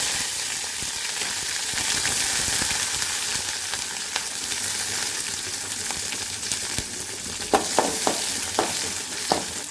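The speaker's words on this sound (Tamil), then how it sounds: "தாளிச்சிக்கலாங்க கடுகு உளுத்தம்பருப்பு சீரகம் வெங்காயம்" Mustard seeds, urad dal, cumin and onion tempering in hot oil give a steady close sizzle, with a few sharp spattering pops near the end.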